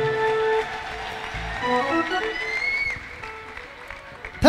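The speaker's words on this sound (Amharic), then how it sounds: "እልልታ ጭብጨባ ለኢየሱስ ክብር።" A congregation claps and ululates during a church service, with sustained applause under high trilling voices and a sharp loud burst at the very end.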